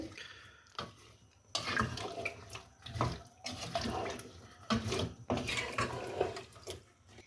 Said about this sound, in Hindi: जब शलजम डालें तो इसमें थोड़ा सा पानी डाल दें, हाफ टी स्पून नमक, 1/4 टीस्पून हल्दी। इसे मिक्स करें।